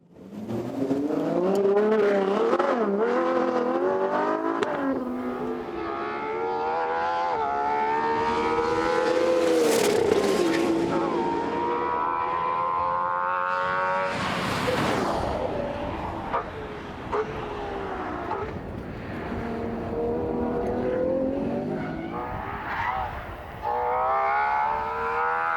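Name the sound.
Ferrari 812 Competizione naturally aspirated engine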